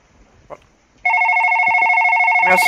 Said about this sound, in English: Let me answer the goddamn phone